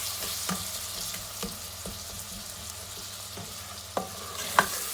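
Masala fries in a pan for aloo methi while being stirred, a low steady sizzle broken by periodic soft scrapes and taps, including a sharper knock near the end.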